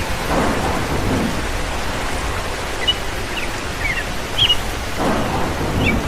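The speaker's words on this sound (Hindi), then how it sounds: "देखना बारिश भी हो रही है" Heavy rain pours steadily in a cartoon scene while rumbling thunder rolls underneath, a dense, loud hiss with no voices.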